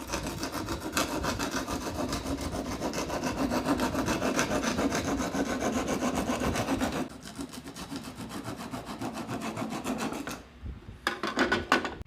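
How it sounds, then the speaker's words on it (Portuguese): A wood rasp files an MDF dovetail joint with steady, rapid back-and-forth scraping strokes, close and loud, pausing briefly and then resuming in short bursts near the end. "Eu removi o que deu, agora vamos para a grossa."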